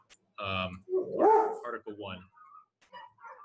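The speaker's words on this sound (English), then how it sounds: "Excuse my dog in the background;" A pet dog barks in the background of an indoor call, a few short yips and barks breaking through intermittent talk.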